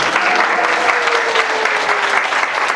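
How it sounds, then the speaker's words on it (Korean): An audience at a talk claps in a loud, continuous round of applause, a dense patter that holds steady throughout. "네, 박수."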